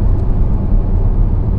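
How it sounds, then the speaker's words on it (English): The engine of a 2020 Range Rover Velar SVAutobiography drones loud and low under hard acceleration, a dense, steady roar with no talk over it. "It sounds fantastic on the upshift."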